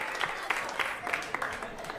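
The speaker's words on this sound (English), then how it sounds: "A round of applause." Comedy club audience applauding after the comic asks for couples to make noise, a moderately loud stretch of scattered clapping with a few sharper bursts, somewhat distant and under a faint murmur.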